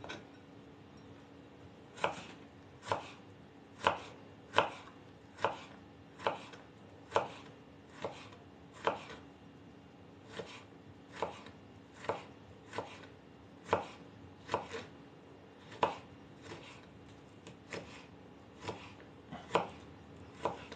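A knife chops vegetables steadily on a cutting board, sharp evenly spaced thuds repeating about once a second, close and clear with no speech.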